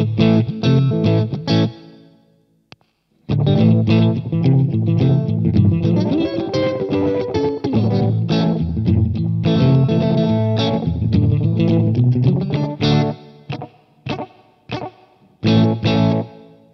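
An electric guitar runs through a Gokko Magrane Echo Machine pedal set for slapback echo, with a short single repeat. Loud, slightly overdriven riffs and held chords play for over fifteen seconds, broken by brief pauses and closing with choppy stabs.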